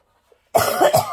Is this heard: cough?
yes